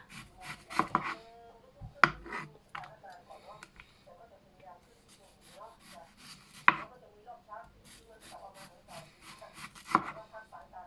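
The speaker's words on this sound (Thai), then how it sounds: "หั่นหอมค่ะหั่นหัวหอม" An onion being chopped with a knife while making hamburgers in a home kitchen: a run of sharp, irregular knife strikes against a board, near and clear, with someone talking over parts of it.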